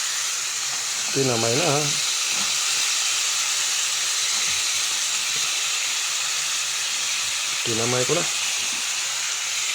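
Crabs cooking in a salted pan, giving a loud continuous broadband hiss and sizzle throughout, with two short spoken phrases rising over it.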